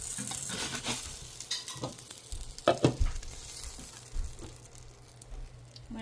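Blueberry pancake batter frying in a pan, a soft sizzle under clattering utensil scrapes and a few louder knocks, then settling into gentle hissing.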